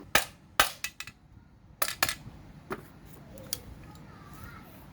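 Several sharp, close knocks of a hammer fitting engine case halves together on a 5200 chainsaw during crankshaft replacement come in irregular bursts, a few quick strikes at a time, then fade into quieter, sparser taps.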